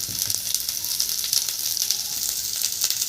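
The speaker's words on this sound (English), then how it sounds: "we are just going to be stir frying them in hot oil with the garlic" Vegetables and garlic stir frying in hot oil over a high flame, a steady close, loud sizzle and hiss running unbroken throughout with faint stirring scrapes and no talk.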